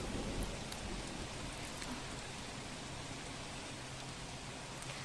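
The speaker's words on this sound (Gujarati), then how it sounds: "તો જામનગરમાં સતત 5મા દિવસે ધોધમાર વરસાદ યથાવત છે।" Heavy monsoon rain pouring down in Jamnagar during days of flooding, a dense, steady hiss of rainfall at moderate level throughout with no speech.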